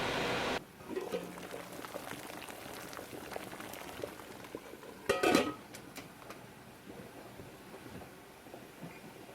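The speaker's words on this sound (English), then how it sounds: "always keep it at a rapid boil with the cover on" A covered water-bath canner holding jars of homemade pizza sauce bubbles at a rapid boil, making a steady close rumbling simmer with occasional louder clinks and rattles.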